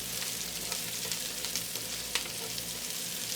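Onion and garlic sauté gently in a pan, giving a steady, soft, continuous sizzle with faint crackles and no voices.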